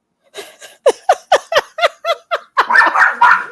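Dogs at home barking in an excited, rhythmic series of about eight sharp, loud barks, then a burst of overlapping, busier yelps and whines close to the microphone.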